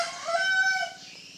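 A rooster lets out a single clear crow at close range, rising and then tapering off over about a second.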